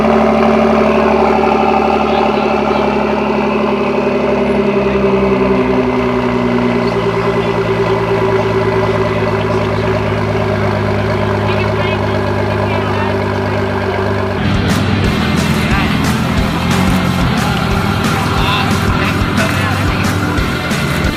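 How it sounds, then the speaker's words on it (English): A Ford GT's engine runs loud and steady at first, then shifts partway through into a rougher, more broken roar with rapid crackling pulses. "We're gonna try to get a cold start up here on the Ford GT."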